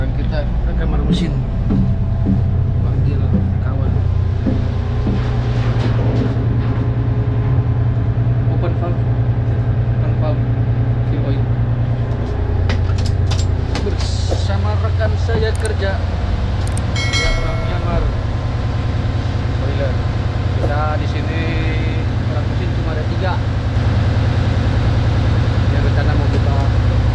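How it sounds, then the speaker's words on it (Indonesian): Engine room machinery on a Korean cargo ship at sea runs as a loud, constant low rumble and drone throughout, with clanks and people talking over the noise. "sekarang kita ke kamar mesin."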